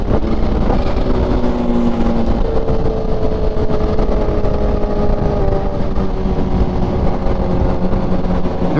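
A stretched Honda CBR1000RR motorcycle is ridden on the road, its loud, close engine droning continuously with the pitch drifting up and down under heavy wind rush, and no speech.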